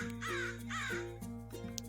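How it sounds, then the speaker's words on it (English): Crows in the modded Minecraft survival pack RLCraft caw in a steady repeating series of harsh calls over a constant low game hum, with no talking. "There's quite a lot of birds."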